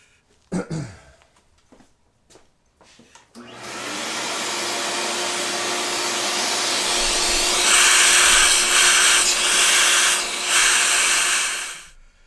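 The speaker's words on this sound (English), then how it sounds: "now I've vacuumed out that area" A small vacuum cleaner runs inside the air box of a Kayo 230 dirt bike, a loud steady whine with hiss after a few brief knocks and a short cough, then cuts off.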